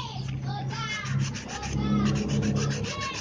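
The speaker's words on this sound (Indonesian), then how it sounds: "Proses pengamplasan." Steady rasping strokes of coarse sandpaper rubbing across wood, close and continuous, with a rough back-and-forth rhythm.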